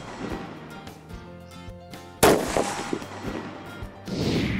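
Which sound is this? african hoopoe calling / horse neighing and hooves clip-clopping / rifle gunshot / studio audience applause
rifle gunshot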